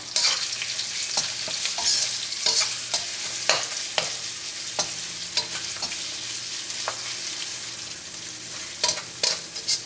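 Fenugreek seeds and asafoetida fry in hot oil, a bright, close, steady sizzle punctuated by frequent sharp clicks and scrapes of a spoon stirring, without voices.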